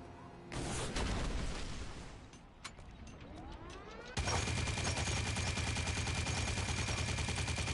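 Video game gunfire: bursts of rapid automatic shots, a short lull with scattered single cracks, then a dense, loud sustained barrage to the end, with no talking.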